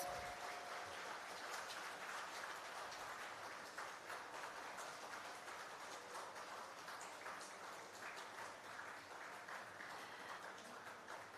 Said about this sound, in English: I request everyone to welcome our esteemed dignitary with a big round of applause.